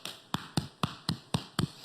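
Hands slap the chest in a body-percussion exercise, eight crisp, evenly spaced thumps with a dull low body, fairly close and alone with no talking.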